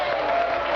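A brief burst of applause from a debate audience, dense clapping and crowd noise filling the whole short moment.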